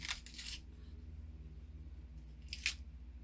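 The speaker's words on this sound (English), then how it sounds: "you can cut them chunky." A knife cuts green onion scallions into chunky pieces, giving two sharp, close crunchy snips about two seconds apart against a quiet kitchen background with no talk.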